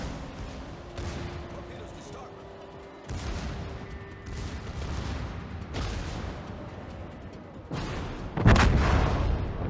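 Italian battleship Giulio Cesare firing its main guns in the naval game World of Warships: heavy booming salvos roll out at intervals, the last one loudest, over a continuous rumbling battle din with a voice talking.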